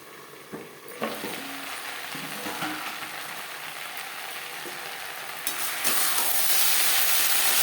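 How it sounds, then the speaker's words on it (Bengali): Silver carp curry with potatoes simmering under a lid over a low-medium flame gives a steady close sizzle and bubbling hiss, with a few soft knocks early on and a brighter hiss in the last couple of seconds. "লো টু মিডিয়াম ফ্লেমে ঢাকনা চাপা দিয়ে আলু সেদ্ধ হওয়া পর্যন্ত রান্নাটা করব"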